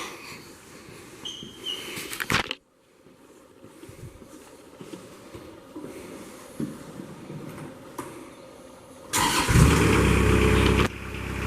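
A 2014 Moffett M55 truck-mounted diesel forklift engine runs steadily with a low rumble, a brief pause near the start, then a louder revving burst toward the end; no one talks.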